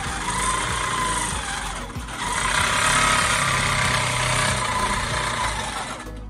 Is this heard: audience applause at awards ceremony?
no